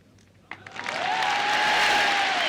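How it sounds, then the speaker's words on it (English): Applause from golf spectators at the 1974 Open starts with a few scattered claps and quickly swells into steady, sustained clapping from many hands, heard at a moderate distance. "Very commendable effort, and gets great rounds of applause"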